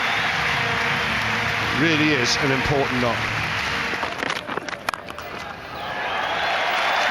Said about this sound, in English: The crowd realise it and give him a standing ovation.